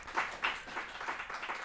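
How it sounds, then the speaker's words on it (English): An audience applauds at a startup pitch event, giving a short, dense burst of many hands clapping together at moderate volume with no talking. "Big round of applause."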